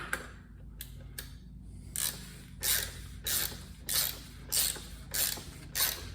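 An oil filter housing cover on a 2012 Mercedes S550 W221 is screwed back on by hand, producing a run of regular scraping, ratchety turns that repeat about twice a second, close and moderately quiet over a low steady hum.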